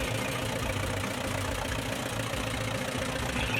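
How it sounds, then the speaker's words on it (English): A 1945 Case LAI military-edition tractor engine runs steadily at a showground, a constant rough mechanical drone with no talking over it. "This is a 1945 Case LAI. It's a military edition owned by Billy Sanders."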